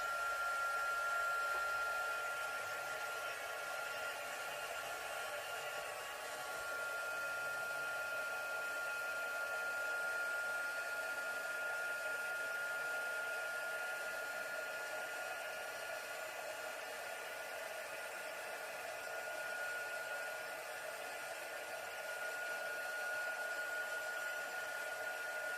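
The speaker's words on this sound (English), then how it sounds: "I'm gonna heat set this." A heat tool heat-sets ink on a stamped card. It blows a loud, continuous, close-up whoosh with a steady whine, like a hair dryer, that runs unbroken for about twenty-five seconds.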